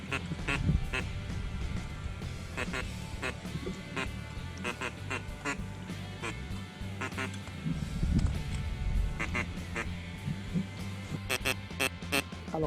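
A duck call blown by a five-time state calling champion makes rapid close-range quacking and chattering in the field. Sharp clicks and bursts of noise run through the steady, dense calling.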